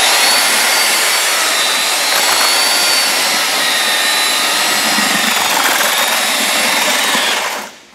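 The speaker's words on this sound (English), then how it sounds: "and you won't stall your mixer" A power mixer churns a batch of GFRC glass fiber reinforced concrete made with lightweight aggregate, producing a loud continuous whirring roar with gritty texture that runs steadily, then cuts off at the end.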